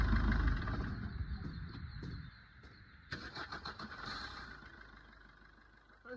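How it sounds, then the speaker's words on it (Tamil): A Maruti Swift Dzire with a weak fuel pump in the fuel tank unit cranks, then catches partway through and settles into a steady, fairly close idle, with no talk. "இப்போ வண்டி ஸ்டார்ட் பண்ணுறேன்."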